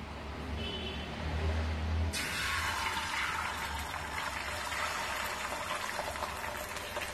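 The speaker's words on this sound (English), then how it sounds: "The egg is bubbling because it's heated." An egg dropped into hot oil in a pan for an omelette, breaking into a loud, steady sizzle and crackle that continues without pause.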